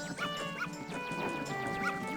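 Puppy whimpering in several thin, high whines and short yips spaced through the clip, close and fairly quiet over a faint tonal background.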